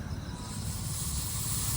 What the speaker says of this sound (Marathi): यात थोडंसं पाणी घालायचं आहे म्हणजे आपले मसाले जळणार नाही.